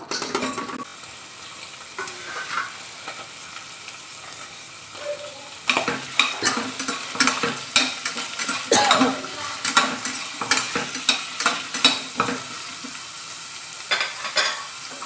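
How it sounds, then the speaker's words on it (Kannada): Onion, ginger, garlic, green chilli, pepper, cinnamon and cloves sizzle in hot oil while a spoon stirs and scrapes the pan in steady, close, irregular clatters, with no talk. "ಈರುಳ್ಳಿ, ಶುಂಠಿ, ಬೆಳ್ಳುಳ್ಳಿ, ಮೆಣಸಿನ್ಕಾಯಿ, ಮೆಣಸು, ಚಕ್ಕೆ, ಲವಂಗ ಇದಿಷ್ಟನ್ನು ಎಣ್ಣೆಲಿ ಹಾಕಿ ಸ್ವಲ್ಪ ಫ್ರೈ ಮಾಡ್ಕೋಬೇಕು"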